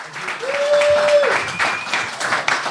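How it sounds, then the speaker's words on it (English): Round of applause at a horse racing preview event, a short burst of crowd clapping mixed with some voices, fairly close and loud. "Let's give him a round of applause."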